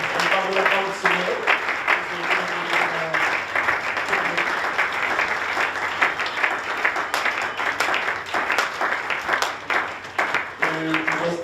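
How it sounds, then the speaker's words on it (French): A church congregation applauds loudly and steadily, dense clapping with crowd noise throughout, and voices of the gathering mixing in beneath the applause. "Est-ce que vous acclamez très très fort le Seigneur?"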